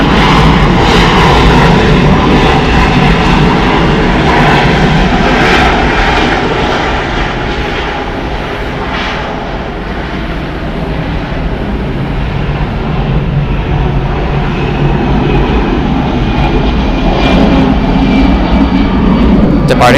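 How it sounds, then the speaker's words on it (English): A Delta Airlines Boeing 737-900ER jet lands at Atlanta Hartsfield-Jackson airport, its engines a loud, continuous roar that holds steady for the whole stretch, with no other sounds standing out. "Landing Delta Airlines flight 2575 coming in from EWR. It's a 1 hour and 32 minute flight on a Boeing 737-900ER."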